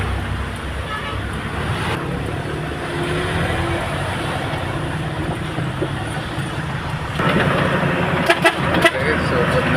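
A truck labouring uphill on a road crossing near Balubal, its engine a steady low drone that swells louder toward the end, with horn toots and roadside traffic mixed in and people talking over it.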